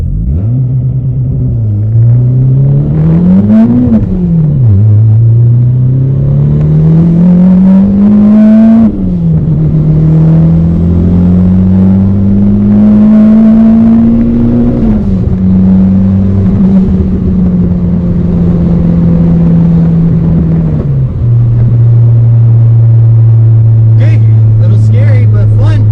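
A turbocharged D17A2 Honda Civic pulls hard at 20 psi boost, its loud engine drone climbing through the revs, dipping at each gear change and rising again, heard close from inside the car.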